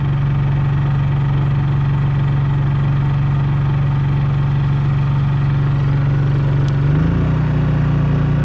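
A Honda EU3000is inverter generator powering a travel trailer runs with a steady low hum, then shifts up in pitch near the end as the air conditioner kicks on and the engine revs partway up.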